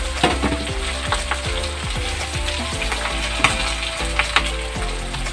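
Green chilies, bay leaves and chopped ginger fry in oil in a pan for khichuri, sizzling loudly and continuously up close, with frequent rattling scrapes of a spoon stirring and a faint mechanical whirr underneath.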